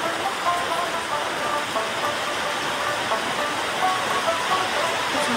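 Tap water runs in a steady, full rush while prawns are washed for a village-style chorchori, a continuous splashing hiss that stays close and even throughout.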